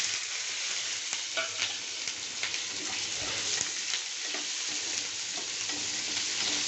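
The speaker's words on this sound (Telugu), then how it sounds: "కొద్దిసేపు మంచిగా వేగనిద్దాం" Potato and onion fry sizzles steadily in a pan with mustard seeds, cumin and sliced green chillies, with continuous close crackling and occasional stirring scrapes throughout.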